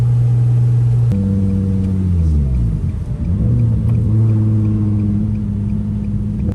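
A modified car engine pulls hard while driving, holding a loud, steady drone. It shifts gears with a smooth drop in pitch partway through, then climbs again, close and continuous.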